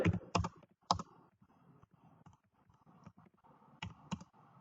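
Quick bursts of typing on a computer keyboard, a few sharp clustered clicks at the start and end with softer scattered keystrokes between, close and alone with no voices.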